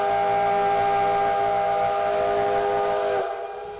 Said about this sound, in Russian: Уникальный поезд, выпуская пар из-под колес и густой дым прямо в небо, громко и торжественно занял свое место.